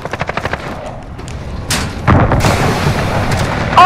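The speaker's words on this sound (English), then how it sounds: "Enemy precision airstrike inbound" Gunfire and precision airstrike explosions in Modern Warfare on the Hackney Yard map: rapid rhythmic shots up front, then a heavy boom at about two seconds followed by sustained rumbling blasts, loud and close.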